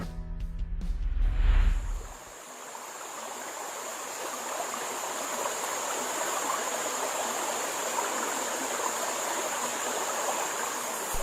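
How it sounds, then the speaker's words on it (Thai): A forest stream at the source of the Phetchaburi River in Kaeng Krachan National Park, Thailand, rushes in a steady, even wash of flowing water after a brief burst of louder noise at the start. "นี่คือต้นกำเนิดแม่น้ำเพชรบุรี"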